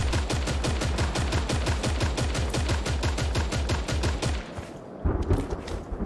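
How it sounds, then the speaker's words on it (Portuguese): Rapid automatic gunfire in the video game Creative Destruction, a loud sustained burst of evenly spaced shots that stops abruptly near the end, followed by a few scattered quieter sounds. "Ah, aqui tem mais tiro pra lá."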